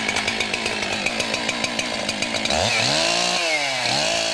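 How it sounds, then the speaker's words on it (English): A chainsaw sputters through rapid pull-start strokes, then catches and roars, its engine revving up and down loudly and close. "Make sure your saw is firmly supported with the chain brake on before you start it."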